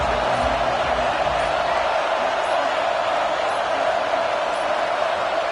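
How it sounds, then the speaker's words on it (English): Steady, dense crowd roar filling a football stadium before an Ohio State play, a constant broadband wash that holds level throughout with no distinct cheers or breaks. "This crowd ready to make its presence known."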